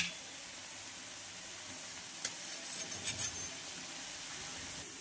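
Green moong tikkis fry on a tawa over medium gas, a steady low sizzle running throughout with a few brief clinks of the pan near the middle.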